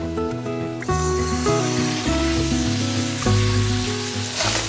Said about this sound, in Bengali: এখানে চিকেনের জন্য পেঁয়াজটাও ফ্রাই করা চলছে